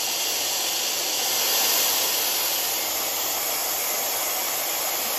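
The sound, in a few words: Tymo Airhype hair dryer running at highest speed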